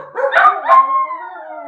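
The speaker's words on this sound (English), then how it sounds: "So, what are you barking at? I'm gonna throw something at this dog." Dog howling nearby, a loud, drawn-out howl that opens with a couple of sharp yips and then settles into a long, steady tone.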